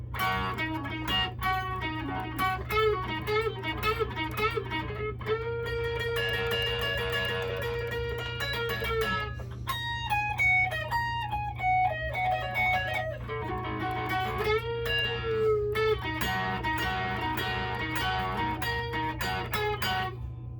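An electric guitar solo of melodic single-note lines with bends and quick runs, moderately quiet over a steady low hum. No one speaks.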